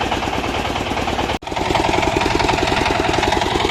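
A power tiller engine runs steadily while ploughing a dry field once planted with jute, its rapid chugging beat loud and close, with one brief dropout before the rhythmic throb resumes.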